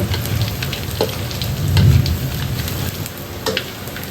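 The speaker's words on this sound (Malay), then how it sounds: "kita akan goreng sampai dia garing" Steady sizzling and crackling of anchovies frying in hot oil until crisp, close and continuous, with a brief louder bubbling swell midway.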